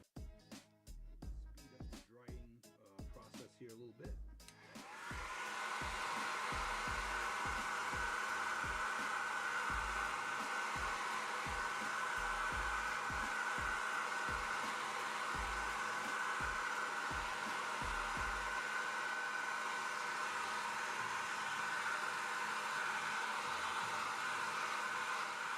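A hair dryer switches on after a few seconds of small clicks and taps, then blows steadily and loudly, speeding the drying of a paper sign on a model brick wall for a model train layout, with occasional handling knocks underneath.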